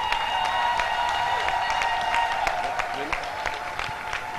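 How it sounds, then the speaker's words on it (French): Congregation applause at a church celebration of a reverend's 70th birthday, steady clapping under a sustained musical tone, with voices mixed in. "Applaudissez s'il vous plaît."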